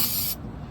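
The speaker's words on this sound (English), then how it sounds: "spray it with a little bit of brake cleaner" A short, close burst of brake cleaner from an aerosol can, a sharp hiss lasting about a third of a second before cutting off to quiet.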